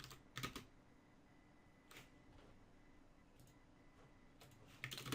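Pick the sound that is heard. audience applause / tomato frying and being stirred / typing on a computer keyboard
typing on a computer keyboard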